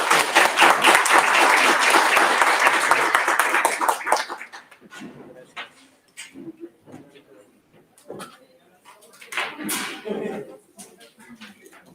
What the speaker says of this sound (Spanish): por favor, un aplauso al doctor